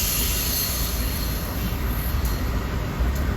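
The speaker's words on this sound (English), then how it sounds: "we got the Bright Line train passing by once again" Brightline train passing close by, a loud steady roar of rail wheels and carriages rolling past with faint high squeals along the track, continuous throughout.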